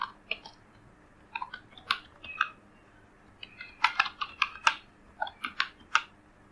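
Fingers type an email address on a computer keyboard while setting up a Shopify store: scattered, uneven bursts of crisp key clicks, close and fairly quiet, with short pauses between clusters.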